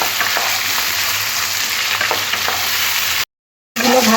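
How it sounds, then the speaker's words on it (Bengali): Mixed greens and vegetables stir-fry in a pan with a steady, close sizzle and soft scraping of the spatula, ending in a short silent gap before the frying resumes. "শাক সবজিগুলো একসাথে দিয়ে দিলাম দিয়ে ভালো করে নাড়াচাড়া করে একটু ভাজা ভাজা করে নিতে হবে"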